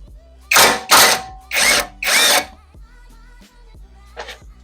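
A power tool whirs in four loud, closely spaced bursts while loosening a 12mm bolt on a Honda Civic Mk8 Type R engine, followed by quieter clicks and a brief final short burst.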